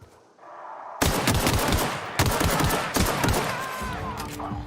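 Pistol gunfire in The Outer Worlds video game, a rapid string of sharp, loud shots in quick bursts following a quieter moment, with no talking.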